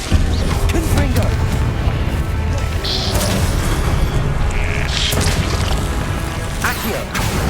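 Confringo fire spells burst in Hogwarts Legacy, dense booming blasts and crashes over a loud game soundtrack, with a voice calling out spell names amid the action.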